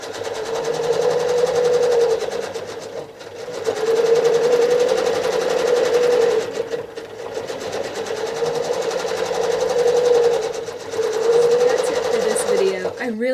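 A sewing machine stitching free-motion McTavishing fill on a quilt hums steadily at close range, with a high rapid needle buzz that speeds and slows in bursts and brief pauses between runs.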